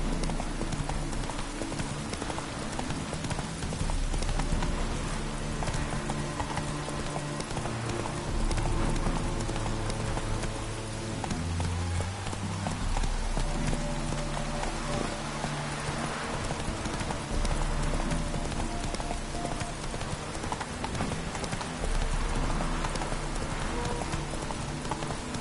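Hooves of Roach, a horse in The Witcher 3: Hearts of Stone, in a steady, rhythmic clip-clop that runs the whole stretch under a loud, continuous orchestral game score, with no talk.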